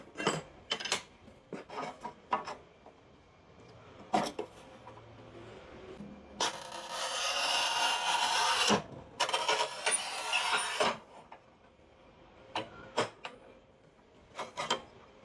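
Manual push-type HASSTON tile cutter scores a ceramic tile, giving a steady gritty scraping glide of a few seconds amid scattered sharp clicks and knocks of the tool, fairly quiet overall.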